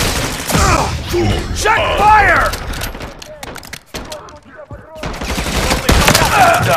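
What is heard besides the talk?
gunfire in the video game Call of Duty Modern Warfare III Zombies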